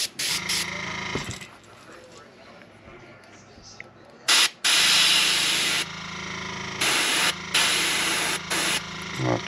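Bursts of airbrush spray paint hiss over a fishing lure, several sharp blasts of a few seconds each with quieter rubbing and handling between them.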